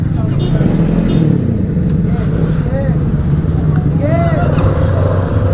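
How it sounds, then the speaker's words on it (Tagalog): An FKM Glider 500 cruiser motorcycle engine rumbles steadily and loudly up close, a low continuous drone, while someone talks over it. "I can hear and I can feel ang kanyang rumbling"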